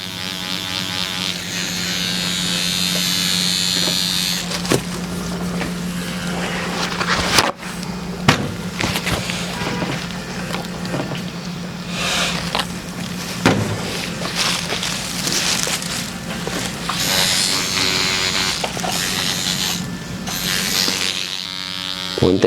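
Tattoo machine needle buzzing continuously while shading skin on a Super Mario tattoo, a loud close steady electric whine with brief dips and clicks as the needle lifts and returns.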